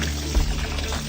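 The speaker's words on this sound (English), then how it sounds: "I'm gonna kind of let this rinse overflow a little bit" Running water pours and overflows from a bowl as oxtails are rinsed in a kitchen, a steady close splashing wash with a brief louder gush partway through.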